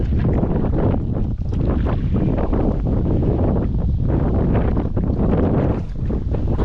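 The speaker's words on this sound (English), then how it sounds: "That wind's gonna move us right along here." Strong wind roars across a boat on open water, a loud, steady rush buffeting the microphone, with faint water motion beneath and no voices.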